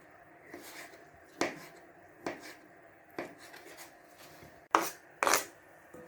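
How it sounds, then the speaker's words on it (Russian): A knife chops brisket on a cutting board for a salad, sparse irregular thuds of about eight cuts, close and distinct, with no talking. "Для салата мы нарезаем грудинку вот так вот."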